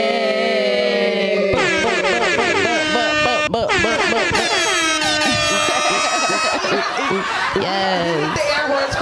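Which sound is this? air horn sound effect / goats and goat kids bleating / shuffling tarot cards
air horn sound effect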